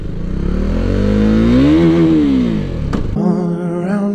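KTM Duke 390 motorcycle accelerating hard from a standstill on a 0-60 run, engine note rising steadily to a loud peak before a sharp gear change and renewed pull, close and continuous.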